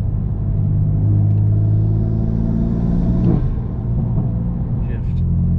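A BMW M4 fitted with a CTS turbo intake rumbles steadily at close range, with a brief induction whoosh around a gear shift and faint intake chirps near the end.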